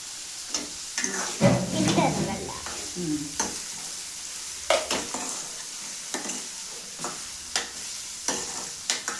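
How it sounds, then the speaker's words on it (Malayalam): Onions with salt sautéing in a pan for fish curry, a soft sizzle under repeated scraping stirs and clicks of a spoon, with a brief louder burst of frying early on. "ഇങ്ങനെ ഉള്ളി ചോക്കണം വരെ കിണ്ടി കൊടുക്കാം"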